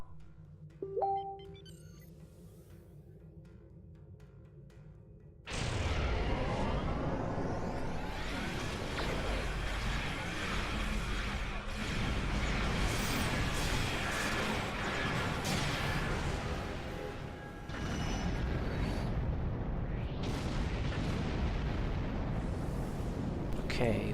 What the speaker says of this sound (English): That is, if you can hear them over the sound of all the torpedoes.